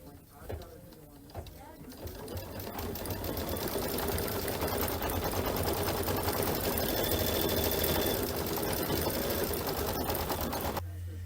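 Kimberbell embroidery machine stitching a Hello Spring pillow design, a steady, close mechanical whir with rapid needle chatter that starts after a brief pause and runs continuously until it stops abruptly near the end; some speech is audible early.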